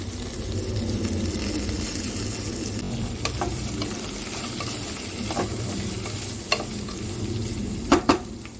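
Carrots and beans frying in two tablespoons of oil for bagara rice: a steady close sizzle under occasional scraping and clinking of a stirring spoon against the pan, louder knocks near the end.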